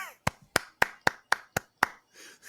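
A single person claps sharply several times in a steady rhythm, close and loud, during a casual talk about an NFL Week 1 game between the Commanders and the Broncos, followed by a brief murmur of voices.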